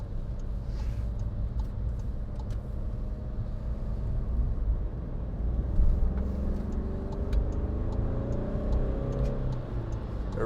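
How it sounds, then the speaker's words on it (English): A 2016 Skoda Fabia 1.4 TDI Monte Carlo diesel engine drones steadily while driving, a buzzy low hum that climbs in pitch as the car accelerates, with no talk. "A real buzzy little sound to it."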